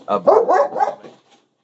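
A dog gives a quick burst of three or four barks up close. They trail off into a faint final yip.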